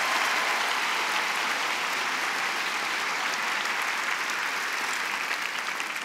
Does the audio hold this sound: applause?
yes